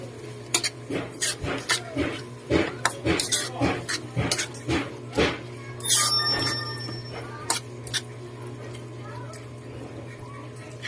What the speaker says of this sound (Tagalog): Ngayon po, haluin na natin.